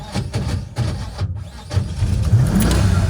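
A car engine cranks in several short stuttering attempts, then catches and revs, rising into a louder, rough running roar; close and loud, with no talking.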